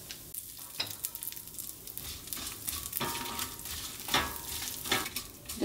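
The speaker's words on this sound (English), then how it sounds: "Just saute till the red chilies become little red, dark red." Red chilies and urad dal sauté in hot oil in a pan, with a steady close crackle and sizzle broken by frequent spatula scrapes and stirs, fairly quiet and with no voices.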